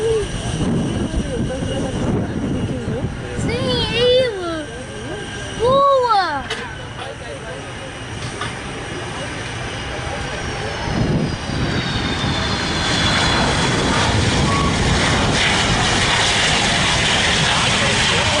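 A Condor Boeing 757-300 arrives at an airport, its broad engine roar rising and swelling steadily toward the end, with brief voices and whistling tones heard over the rumble early on.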